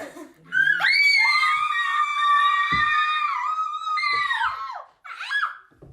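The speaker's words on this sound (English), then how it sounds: "So I actually recorded my girlfriend's children screaming." Children scream together in a long, high-pitched, sustained shriek that wavers, breaks off, then starts again briefly at the end.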